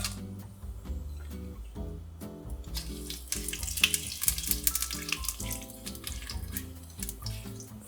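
Whole dried spices frying in a quarter cup of hot oil in a cast iron pot over medium-high heat, a steady crackling sizzle that grows brighter and busier midway, with a low thumping rhythm of background music underneath.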